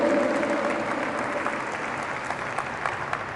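A church congregation applauds, a dense, even wash of clapping that holds steady and slowly fades over a few seconds, with a faint voice briefly audible at the start.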